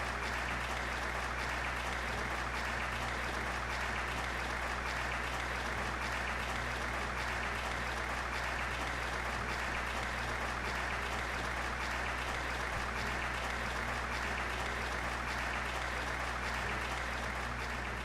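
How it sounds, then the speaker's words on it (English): A crowd in the Trails of Cold Steel video game applauds with sustained, dense clapping and foot stomping, a loud unbroken wash of sound that holds steady throughout. "That clapping sounded like some people were even stomping their feet."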